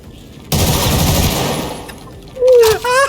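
Loud, rapid automatic gunfire in a Raid match of a video game, a dense burst lasting about a second followed by a voice cutting in briefly.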